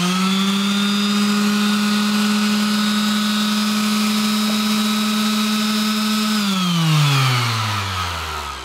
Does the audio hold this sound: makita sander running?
yes